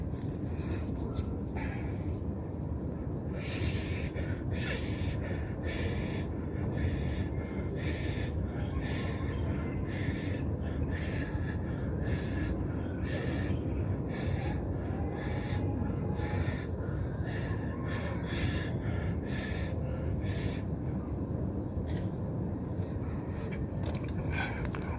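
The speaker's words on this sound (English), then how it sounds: "I did a 1 hour breathing exercise," Heavy, rhythmic breathing from a breathing exercise, with sharp forceful breaths repeating at a quick, steady pace close to the mic over a constant background hiss.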